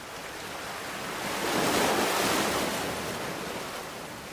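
Steady surf rolls in with a soft wind rush, one wave swelling louder in the middle before easing back, no voices.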